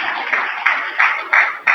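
A crowd claps in a church youth retreat hall, short bursts of applause swelling and fading across a brief moment.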